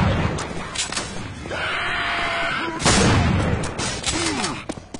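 Gunfire and explosions from the zombie shooter game Left 4 Dead 2, with bursts of shots, a booming blast and screaming or groaning infected mixed into a loud, busy combat scene.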